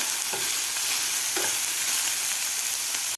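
Mixed vegetables sautéed in a pan for cheese masala Maggi noodles, a continuous bright sizzle with a couple of brief stirring scrapes, close and unaccompanied by talk.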